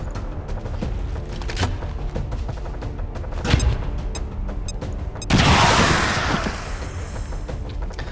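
A frag grenade detonates in XCOM 2 on a snowy map, a sudden loud blast with a rushing roar that tails off, following a stretch of quieter clicks and thuds.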